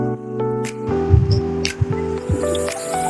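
Water is worked into flour by hand to form a thick momo dough, giving wet squelching and squishing sounds with a few drips, close and uneven.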